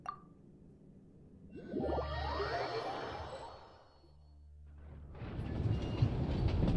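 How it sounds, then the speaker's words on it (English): A train in a video game rolls along its tracks with a low, steady rumble and a swelling rush of noise. It dips briefly, then builds again into a louder, brighter roar, with no voices. "I forgot, I was on the train."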